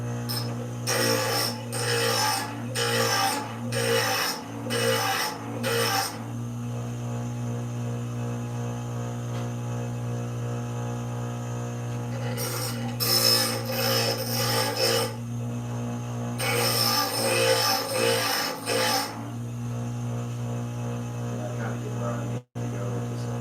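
Knife blade scraped back and forth on a sharpening stone in a home workshop, rasping strokes in two rhythmic bursts with a pause between, close and fairly loud over a steady mains hum.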